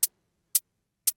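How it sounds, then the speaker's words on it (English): An unprocessed hi-hat sample struck three times at an even pace, each hit a crisp, bright, very short tick with fast decay and silence between. "The hi-hat without any processing sounds like this."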